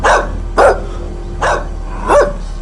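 A trained dog barking in a film scene, four loud, close barks at an uneven pace over a steady low background hum.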